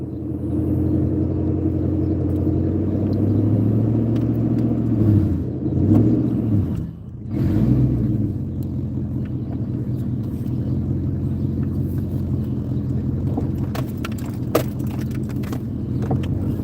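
A car engine idles rough with one cylinder misfiring, a loud, close, uneven rumble that wavers and dips briefly midway before settling back into its lumpy running, no voices over it.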